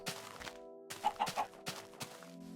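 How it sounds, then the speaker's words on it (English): Minecraft chickens cluck in a short cluster of close, distinct clucks mid-clip, over a steady game ambience with a faint thunk. "We got chickens laying eggs."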